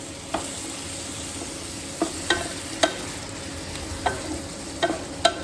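Ginger-spiced paste sautéing in a pan for an okra dish after a splash of water, a soft steady sizzle under sharp spatula scrapes and taps every second or so, close by with no talking.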